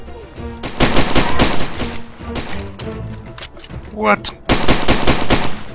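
Rapid gunfire from Far Cry 2 rattles in loud, dense bursts of repeated shots with brief gaps, near and punchy. A voice briefly speaks amid the shooting.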